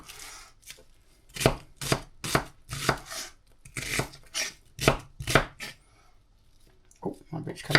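A knife chops through an onion on a board in a quick series of crisp, close cuts, with a short pause before a few final strikes.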